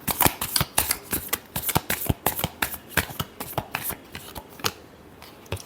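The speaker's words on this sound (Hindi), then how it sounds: "last shuffle" Tarot cards are shuffled in a rapid series of crisp riffling slaps and flicks, close and fairly loud, continuing for several seconds and thinning near the end, with no talking.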